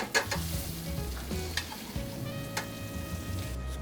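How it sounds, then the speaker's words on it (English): Butter sizzles and foams in a hot pan beside a seared wagyu sirloin cap, a steady close crackle broken by a few sharp clinks and taps of utensils, with no talking. "I'm gonna add the butter."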